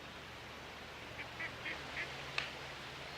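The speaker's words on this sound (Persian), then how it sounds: "این طرف دست چپ یه برکه آب پر از مرغابی." Ducks on a pond give a few soft, distant quacks in a short run, then a single sharper call, set against a steady outdoor hum.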